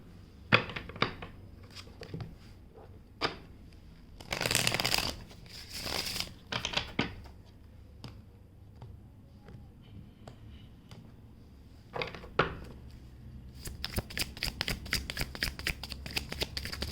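Tarot cards shuffled by hand up close, with repeated bursts of riffling and sliding card noise separated by quiet pauses, ending in a longer stretch of rapid shuffling.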